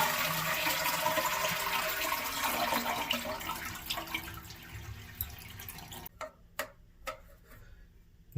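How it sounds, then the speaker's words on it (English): A household toilet is flushed to empty its tank, giving a loud rushing, gurgling swirl of water that fades after a few seconds. Scattered drips and clicks follow in the quiet tail. "Flush the toilet to remove any water that is inside of your tank."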